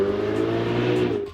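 A Ferrari 488 GTB's turbocharged engine revs loudly and steadily with a strong, harmonic roar, holding its pitch before easing off at the very end.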